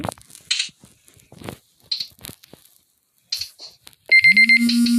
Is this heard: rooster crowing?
no